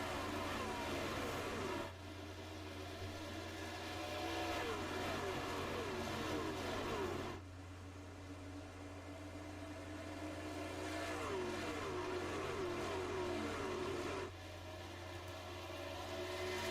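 Race trucks roar past at speed around Nashville Super Speedway in iRacing, a steady engine drone with rising and falling passes and sharp shifts in intensity as the pack sweeps by.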